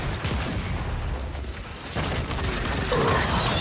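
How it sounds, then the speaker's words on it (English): Enemy gunfire and explosions in the video game Gears 5, a dense continuous barrage of shots and booms, loud and close, with no talking. "Enemy fire."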